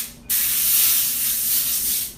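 Cooking spray hisses from a can onto the shiny side of aluminum foil for a lasagna, one steady close blast lasting about two seconds and then tapering off.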